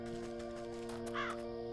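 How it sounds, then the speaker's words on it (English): A crow caws in the fantasy game Wytchwood, one harsh call rising briefly over a steady, humming game soundtrack; faint and short, with no talking. "Crow."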